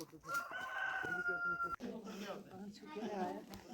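A desi (Indian village) rooster crows with a long, drawn-out call, followed by people talking nearby over background noise.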